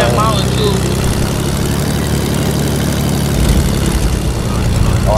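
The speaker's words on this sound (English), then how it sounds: "Land the plane by us, so if we need it, we can use it." Propeller airplane engine in the Fortnite video game, a loud steady droning hum throughout, with players talking over it.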